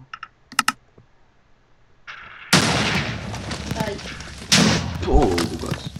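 A small cannon in Minecraft gives a few quick clicks, then a sudden loud blast at about two and a half seconds, a rumbling tail, and a second burst; someone talks over it.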